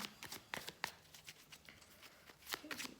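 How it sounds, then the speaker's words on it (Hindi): Soft papery flicks and taps of a tarot card being drawn from the deck for a reading, several small clicks scattered over a few quiet seconds with faint room noise. "पहले डेथ के लिए एक कार्ड निकाल लेते हैं।"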